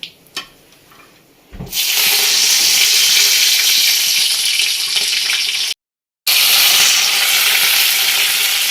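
Beans drop into hot oil in a pan for vegetable rice and set off a loud, steady sizzle that fills the clip, briefly cutting out before resuming just as strongly.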